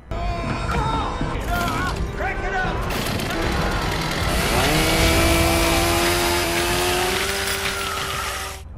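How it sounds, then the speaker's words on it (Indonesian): A chainsaw revs and roars in a Texas Chainsaw Massacre film scene, a loud sustained buzzing engine whine rising in pitch and holding steady, layered with screams and music for most of the stretch. "Dan Thomas langsung menjatuhkan Holden di atas gergaji mesin."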